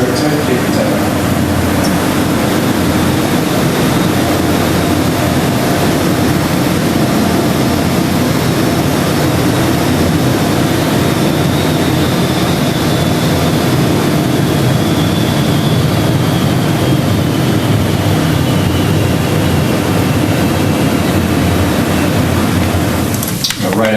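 ATR turboprop aircraft taking off from runway 02, a loud, steady broadband engine and propeller roar filling the whole stretch with a faint rising tone, alone with no talk.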